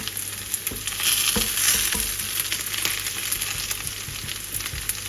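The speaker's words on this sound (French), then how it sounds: "Et laissez le cuire de ce côté-là jusqu'à ce qu'il soit bien doré." Grated potato rösti frying in a pan over lowered heat, a steady close sizzle and crackle with faint scraping or tapping touches, no voices.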